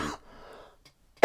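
A single short, harsh cough bursts out near the end after a brief quiet stretch, loud and close, preceded by a fainter breathy sound.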